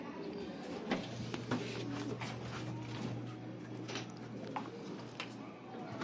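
Soft cooing of racing pigeons mixed into a busy, noisy background with a steady low hum, continuing throughout without clear pauses.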